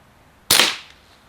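A single sharp shot from a Winchester 1977XS gun, loud and close, with a sudden onset and a short decaying tail, alone in otherwise quiet surroundings.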